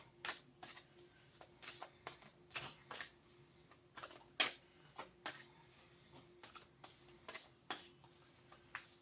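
Starseed Oracle cards are shuffled by hand in a quiet room, a rapid series of soft, crisp riffling bursts repeating at close range.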